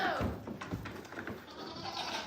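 Young goats bleat in short wavering cries, close and fairly loud, with a person talking over the playful bleats.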